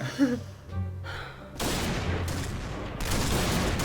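A long burst of sniper rifle gunfire in a video game follows a short breath, loud and dense, with a second burst starting near the end.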